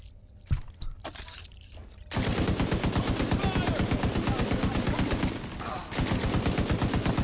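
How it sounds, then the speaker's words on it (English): A deployed turret fires sustained rapid automatic bursts in The Division 2 video game, loud and close, stopping briefly before resuming, after a stretch of scattered shots and game noise. "Now we're gonna use a turret, though."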